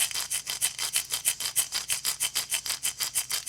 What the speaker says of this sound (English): Here's another little tiny rattle.